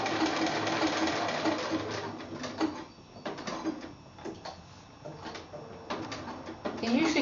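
Sewing machine stitching appliqué onto a tree-pattern meadow quilt, a steady mechanical whir that pauses briefly midway as the fabric is turned at a corner, then resumes, fairly close and moderately loud.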